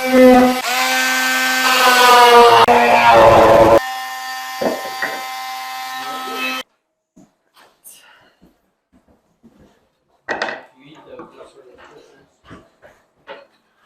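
A loud power tool whines continuously for several seconds while cutting cabinet wood, then stops, followed by scattered knocks and handling sounds of wood.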